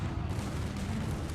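Cannon and artillery fire from a battle in the strategy game Empire Earth, a dense, continuous low rumble of overlapping booms filling the whole moment at steady loudness.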